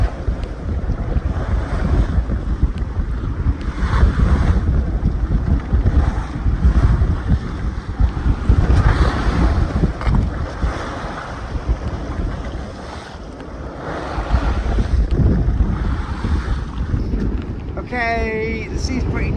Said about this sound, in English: the waves are very short and steep, so I get pretty wet